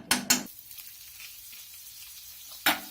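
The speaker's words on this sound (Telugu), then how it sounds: "వీటిని కొంచెం నేను బటర్లో ఫ్రై చేస్తున్నాను" Paneer pieces sizzle in hot butter in a pan, a soft continuous frying hiss punctuated by a few sharp louder bursts at the start and near the end as pieces are stirred or added.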